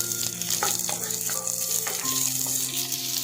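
Chopped onions and two dried red chillies sizzle in hot oil with popped mustard seeds, a loud steady frying hiss with occasional stirring clinks throughout, no talking.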